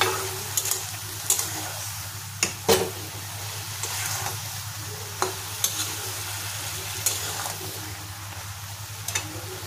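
Bamboo shoot curry is stirred in a pan over steady sizzling, with a spatula occasionally scraping and knocking against the pan at irregular intervals.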